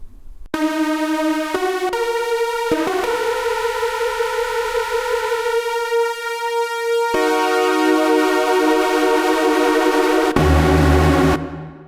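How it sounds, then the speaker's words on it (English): A big, thick super-wave tone from a Yamaha Montage synthesizer's AN-X engine holds sustained chords that shift pitch a few times, bright and full, ending on a low rumbling note. "If I go to something like the super waves here, this is ANX."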